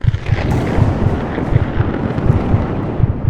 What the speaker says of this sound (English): just until a clap of thunder hit her ears